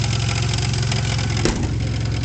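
A 1999 Buick LeSabre Custom sedan with a 3.8 V6 idles steadily, a loud, close, even engine hum with a brief bump partway through.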